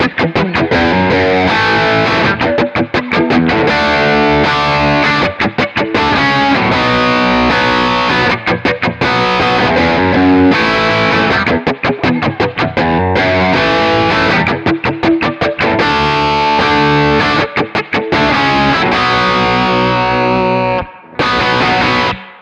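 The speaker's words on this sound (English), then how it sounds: "It's just simply the Park L4 and a little bit of reverb." Electric guitar played through a Park L4 amp with light reverb, strummed chords in a steady driving rhythm, loud and close, stopping briefly near the end.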